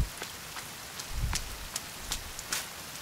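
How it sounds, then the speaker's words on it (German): Rainfall in the survival game The Forest, an even wash of drops with scattered sharper splashes recurring every half second or so, steady and moderately loud with no voices. "Es regnet, die Erde wird nass."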